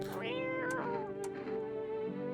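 A cat in the video game No I'm Not A Human meows repeatedly while being petted: drawn-out, clear, close meows that are steady and fairly quiet, with no talking.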